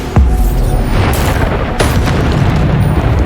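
Bombarda spell blasts in Hogwarts Legacy, with two loud booming bursts, one near the start and another about midway, each fading into a dense rumbling roar that fills the whole stretch.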